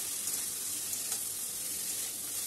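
Tangra fish sizzling steadily with spices in a frying pan as it is stir-fried for a Bengali jhal, a constant close hiss throughout with no talking.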